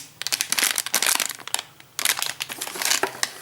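Close-up crinkling and crumpling of paper packaging while unboxing a CaDA power system kit, in bursts of rustling with a brief pause midway.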